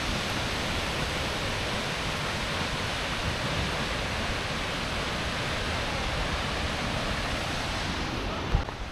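A river stream in Iceland rushing steadily, a loud unbroken wash of flowing water heard close, with no voices over it.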